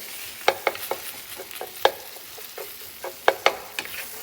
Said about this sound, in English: It's cooking like an egg.